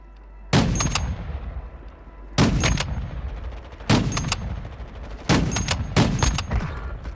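A semi-automatic rifle fires in Warzone Mobile, a combat game, in five loud bursts of rapid shots spaced about a second and a half apart, each crack followed by a brief echoing tail.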